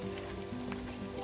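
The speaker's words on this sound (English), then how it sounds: "It started raining" Rain falling in a redwood forest on a hike, a steady broadband patter and hiss pattering on leaves and a jacket, continuous and fairly close throughout with no talking.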